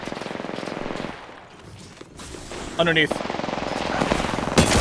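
Gunfire in the shooter game Apex Legends, rapid bursts of automatic fire that drop away briefly and return, with a voice speaking over the shots.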